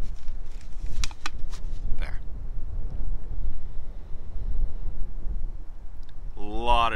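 Wind blows outdoors at a camping spot, a steady low rumble buffeting the microphone throughout, with a few brief clinks early and a short voice-like tone at the end.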